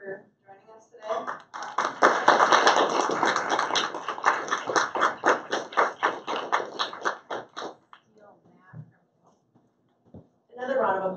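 Lively audience applause at the 2018 Minnesota Pioneer Women in Tech Awards, a dense burst of many hands clapping that swells, holds for several seconds and then tapers off, followed by a few scattered claps and a voice.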